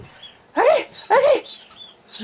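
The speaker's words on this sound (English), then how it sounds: "She's probably barking." A dog gives two sharp barks about half a second apart, fairly close, followed by a softer start of a third.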